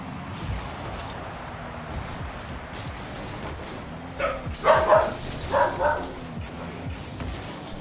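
A dog gives a short burst of three or four barks at moderate distance, standing out briefly over a steady background of room noise and faint game sounds.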